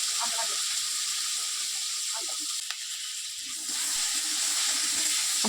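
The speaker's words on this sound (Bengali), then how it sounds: "ওই একই তেলের মধ্যে আলুটাও কিন্তু আপনাদের ভেজে নিতে হবে।" Potatoes fry in mustard oil in a pan, giving a steady bright hiss with bubbling that thins out briefly midway before resuming, alone without talk.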